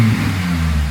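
A Honda Civic Type R FN2 fitted with a Tegiwa exhaust, revving cold with a deep booming note, loud and close, the engine rising briefly in pitch before settling into a steady low drone.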